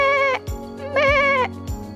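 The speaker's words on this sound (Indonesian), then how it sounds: "Itu suara domba dari ayahku." A sheep bleats twice in loud, wavering cries close by, with sharp clicking knocks between the calls and no talking.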